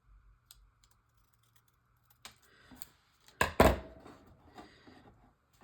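Paper pieces being cut for a junk journal, heard as sparse crisp snips and rustles that build to a couple of louder crunchy cuts near the middle, then trail off into light handling noise.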